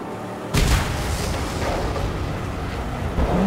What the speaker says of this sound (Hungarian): Na így kell kinézni egy robbanás effektnek és egy tűzeffektnek egy játékba szerintem.